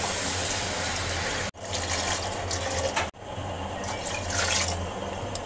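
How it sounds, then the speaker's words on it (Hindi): Water is poured from a cup into a pan of corn dalia, a steady splashing gush repeated in three separate pours with short breaks between them, close and alone. "अब मैं इसमें 3 कप पानी डालूंगी।"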